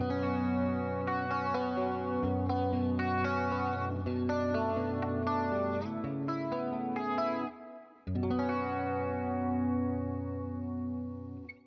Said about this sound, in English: The next clean bass amp, or clean like amp, is the Fender Deluxe.